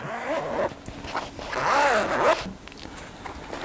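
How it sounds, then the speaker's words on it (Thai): A two-way YKK zipper on a Helikon-Tex laptop briefcase is pulled open in a few close, scratchy zipping strokes, louder and longer toward the middle, with no talking. "ทางซิปเนี่ยก็จะเป็นซิปแบบ YKK นะครับผมเป็นซิปสองทาง"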